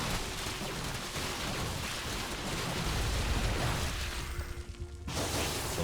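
Psionic storms crackle and rumble across a StarCraft 2 Zerg-versus-Protoss battle against hydras, lurkers and mutas, a dense, continuous wash of static-like bursts and low booms that swells and then cuts off abruptly near the end.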